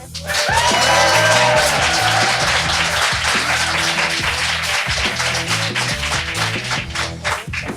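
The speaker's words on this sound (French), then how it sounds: "Très sympa cette bande-son de rire enregistrée d'applaudissements" Canned applause and laughter soundtrack at a live podcast recording, a loud, dense wash of clapping that swells at once and holds steady, with music-like tonal layers underneath.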